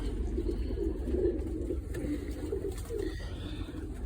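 Soft, low cooing from young pigeons murmurs in repeated short phrases, fairly close, over a faint background hum.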